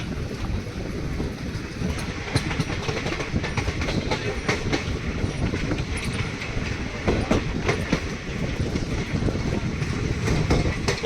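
Interior ride aboard the 14822 Sabarmati Jodhpur Express hauled by a WAP4 electric locomotive with a dead WDM3A diesel in tow, with steady loud wheel rumble and repeated rhythmic clickety-clack over rail joints throughout.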